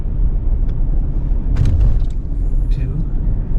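A car drives along a street in Bar Harbor, Maine in March, heard from inside as a continuous, fairly loud low road and engine rumble with a few faint clicks and squeaks on top.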